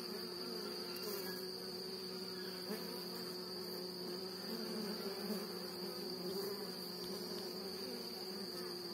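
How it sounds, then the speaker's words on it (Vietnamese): Italian honeybees and native bees buzz at a hive, a steady close insect drone with a sustained high whine running throughout, fairly faint and with no talking. "Đấy, hai con ong Ý vàng."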